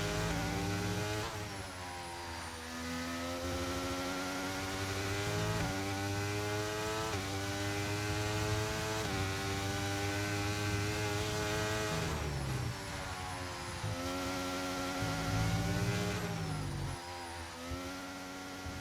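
A Formula One race car engine on a qualifying lap in the F1 23 racing game, a loud continuous high-revving whine rising through the gears with sharp drops at each shift.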